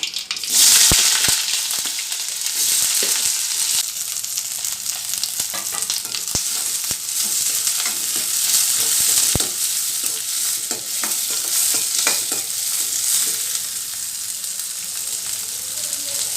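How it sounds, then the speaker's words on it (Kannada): Mustard seeds, onion, green chilli and curry leaves sizzle in hot oil as tempering for ridge gourd palya, a steady close crackling hiss with light stirring clicks throughout and no talking. "ಎಣ್ಣೆ ಕಾದಿದೆ ಸಾಸಿವೆ ಹಾಕ್ತಾಯಿದ್ದೀನಿ ಈಗ ಈರುಳ್ಳಿ ಮೆಣಸಿನ್ಕಾಯಿ ಕರಿಬೇವು ಸೇರಿಸ್ತಾ ಇದ್ದೀನಿ"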